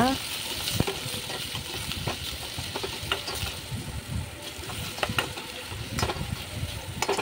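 Chopped capsicum and carrot fry in an oil-filled pan for veg noodles, a continuous close sizzle broken by occasional scraping stirs and clacks of a utensil against the pan.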